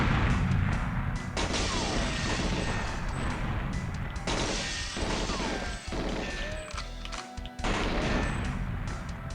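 Rapid gunfire in GoldenEye 007 as bullets strike and dent a wall, loud sharp crashing shots in dense bursts broken by brief pauses, with game music underneath.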